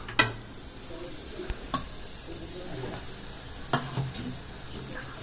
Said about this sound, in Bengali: এটা ভালোভাবে নেড়ে নেবো, এটা মশলার সাথে মিক্স করে নেবো।